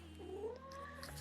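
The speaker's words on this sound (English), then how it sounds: "a cat just stopped on by" A cat gives a single drawn-out meow with a rising then falling pitch, close but quiet, in an indoor room.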